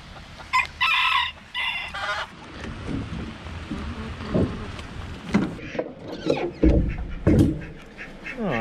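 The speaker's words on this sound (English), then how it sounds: "You gonna herd the crazy white chicken, Tanner?" Chickens cluck and a rooster crows repeatedly around a barn build, with scattered bursts near and loud over a busy farmyard background, and brief talk in between.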